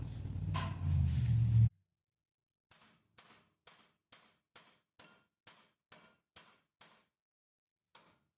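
Metal hammer blows on the steering part of an old Holden, knocking it loose from its taper. A short burst of louder noise comes first, then about ten crisp, evenly spaced strikes ring out alone in a quiet space.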